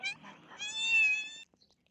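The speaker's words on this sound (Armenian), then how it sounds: "Տեսեք ես կատվին ինչքան հեռվից է ինձ տեսել ու գալիս։" A single drawn-out cat meow, close and clear, approaching outdoors, lasting just over a second before quiet.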